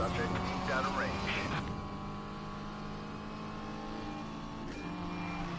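A Nissan engine in the racing game Need for Speed Payback hums at a steady, sustained pitch, with a brief rising rev early on and a short shift blip near the end.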